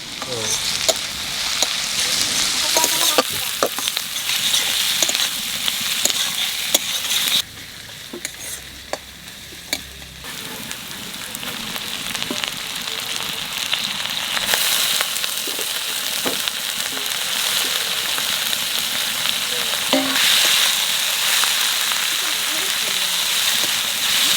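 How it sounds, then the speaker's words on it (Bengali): Prawns frying with green chilies in a pan, giving a steady, loud, close hiss and crackle of hot oil with scattered sharp pops throughout. It quiets briefly partway through, and a voice is heard faintly at times. "এখন কটা কাঁচা লঙ্কা দিয়ে দেবো চিংড়ি মাছ ভাজবো"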